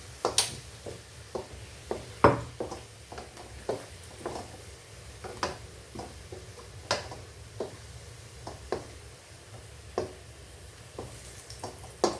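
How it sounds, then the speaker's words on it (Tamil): Radish pieces sautéing in oil in a pan for a South Indian radish curry, with a quiet steady sizzle broken by regular soft clicks and scrapes of a spoon stirring, no talk. "இன்னும் கொஞ்சம் நேரம் வதக்கணுங்க."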